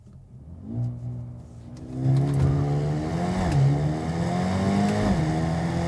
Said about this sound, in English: See if we can try launch control actually here for a second.